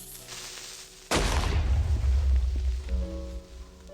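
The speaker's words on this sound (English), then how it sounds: "I saw this creeper coming but still let it explode" A creeper explosion in the video game Minecraft: a sudden loud burst after a second of quiet, followed by a deep rumbling boom that fades over about two seconds.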